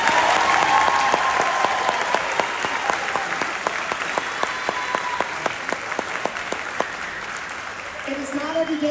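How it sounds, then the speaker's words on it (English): A big round of crowd applause at a holiday concert, with many hands clapping in a full, steady roar that slowly thins toward the end, while a few voices murmur and cheer underneath. "Can you guys give them a huge round of applause?"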